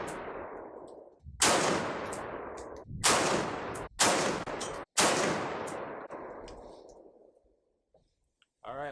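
An AR rifle with an overgassed upper, blue Springco spring and H1 buffer, firing 55 grain ammunition: five loud, close gunshots with long echoing tails and irregular gaps between them, followed by faint clicks.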